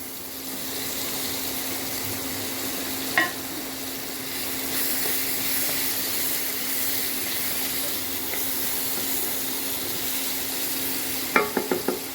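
Potatoes fry in hot oil at high heat in a pot of soybean curry, a steady, even sizzle and hiss running throughout, with a couple of brief utensil clinks near the start and end.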